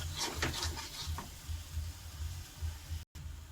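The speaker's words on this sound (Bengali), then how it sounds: "তো কাশ্মীর লঙ্কা, কারণ একটু কালারের জন্য, দিয়ে ভালো করে কষাবো।" Spices with Kashmiri chilli fry in oil, a soft steady sizzle close by with a few light scrapes of a spoon stirring early on and a brief dropout near the end.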